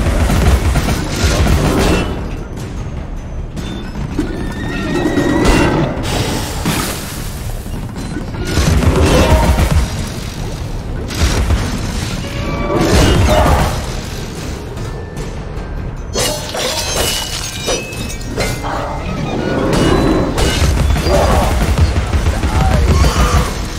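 Close-range gunfire in a video game, heard as a run of loud booming shots and crashing bursts that come in irregular clusters, with dense rumbling layers throughout.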